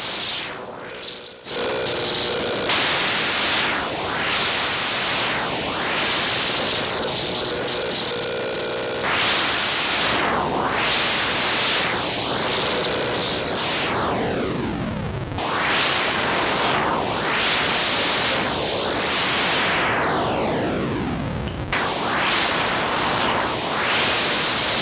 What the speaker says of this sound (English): blend in some of the raw noise output with a filtered signal